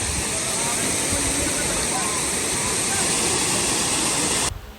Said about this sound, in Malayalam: അങ്ങനെ നമ്മളിപ്പോൾ തുഷാരഗിരി വെള്ളച്ചാട്ടത്തിലേക്ക് പോവാണ്